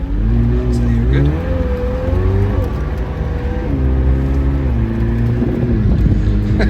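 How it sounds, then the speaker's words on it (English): A McLaren 765 LT roars along a road in Colorado, its engine note loud and close, climbing through the gears with rising pitch and short drops at each shift. "I can't believe we're driving a McLaren 765 LT in Colorado."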